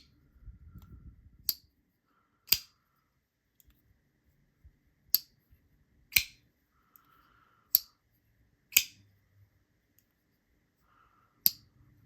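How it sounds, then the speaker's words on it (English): A folding knife with a satin-finished blade snaps open and shut, giving about seven sharp, crisp clicks spaced a second or so apart. Each one rings out close and loud against near silence. "It's got a good snickety on the close. It's got a really loud pop on the open."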